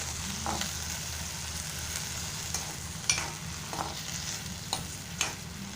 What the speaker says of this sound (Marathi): कोकम घालत आहे हळद पावडर घालत आहे मिश्रण एकजीव करून घेत आहे